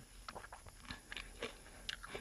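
Tender, small isatrix leaves are chewed close to the mouth, giving soft, irregular crunches and moist biting sounds over a faint background hiss.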